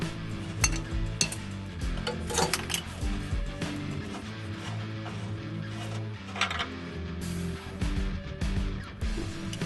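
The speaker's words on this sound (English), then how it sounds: "We can then remove the passenger side oxygen sensor using a special slit socket" A box wrench works the passenger side oxygen sensor loose on a Nissan 350Z/370Z or Infiniti G35/G37 exhaust, producing close metallic clinks and taps over a steady background hum.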